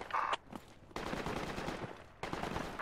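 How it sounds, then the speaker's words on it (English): Automatic gunfire in the PRTA military shooter game during an urban battle in Grozny, coming as rapid bursts of shots separated by short gaps, moderately loud with no talk over it. "Oh, I'm being shot."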